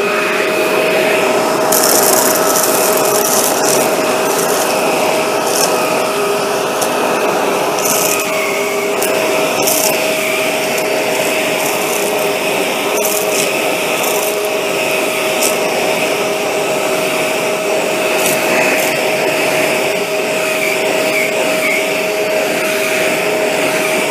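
A Shark Rotator NV752 vacuum with its motorized pet tool runs over carpet, a loud steady whine and whir with a constant tonal hum and faint scrubbing texture as the tool moves back and forth.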